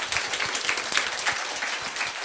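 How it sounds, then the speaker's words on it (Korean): A seated audience at a lecture and Q&A session applauds, giving steady, fairly loud clapping from many hands throughout the short stretch. "감사함으로 박수 한번 드리겠습니다"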